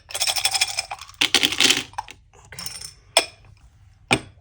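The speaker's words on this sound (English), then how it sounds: "some Scrabble tiles in here, letters and numbers. I'm going to give it a shake. It does make a little bit of noise." Scrabble letter and number tiles rattle inside a container as it is shaken in several short clattering bursts, with a brief spoken word in between.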